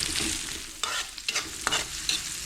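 Ingredients sauté in a hot pan for squid adobo, a steady bright sizzle broken by several sharp scraping stirs of a utensil, close and fairly quiet.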